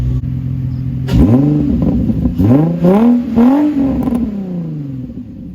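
A nearly stock Nissan 350Z with a test pipe idles, then revs sharply several times in quick bursts, each rising and falling back, loud and close.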